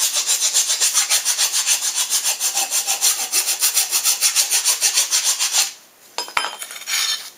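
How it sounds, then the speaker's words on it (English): A metal file rasps back and forth in a steady rhythm of close, loud strokes smoothing a forge part, about twenty-five even passes, then the filing stops and a few light clinks and scrapes follow. "after you rough it in with the coarse, then you can use the smooth file section"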